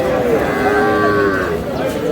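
A cow and her five-day-old calf moo at Aftabganj cattle market, one loud, drawn-out tonal low lasting nearly two seconds, close by over a background murmur of the crowded market.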